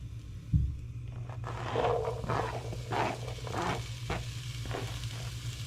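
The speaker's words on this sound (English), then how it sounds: "I'm gonna start sauteing these a little bit" Vegetables, including green pepper, sauté in oil in a pan, giving a steady close sizzle broken by several stirring scrapes. A low, constant hum runs underneath.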